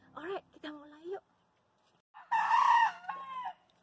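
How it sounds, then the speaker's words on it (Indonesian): A rooster crows nearby in a home garden, two clear drawn-out calls separated by a pause, loud and alone against quiet surroundings. "Tuh ayam sudah berkukuruyuk."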